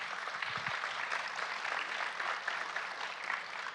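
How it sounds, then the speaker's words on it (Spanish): An audience claps during a bilingual Spanish and English church sermon, a soft steady patter of many hands that sounds somewhat distant and carries on throughout. "It's so funny because the ones that know Spanish started clapping and laughing."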